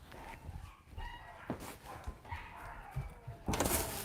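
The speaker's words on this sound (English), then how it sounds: "These fucking dogs." Dogs bark in several sharp bursts, fairly loud and close, with the last stretch the densest and loudest. No one speaks over them.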